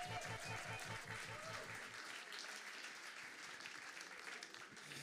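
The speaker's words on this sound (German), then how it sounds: "Applaus für unseren Techniker" A live game-show audience applauds the show's technician with a full, continuous burst of clapping and crowd noise. The applause is strongest at the start and tapers slightly toward the end.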